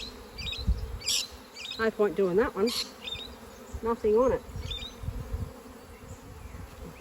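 Honey bees buzz around an open hive during a year-end inspection of a weak colony, a close, wavering drone rising and falling in pitch, with a person speaking briefly over it.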